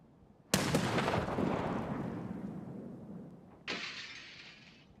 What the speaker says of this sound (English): I think it was just shrapnel hitting the glass.